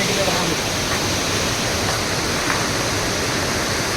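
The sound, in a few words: Cherrapunji waterfall rushing water, Meghalaya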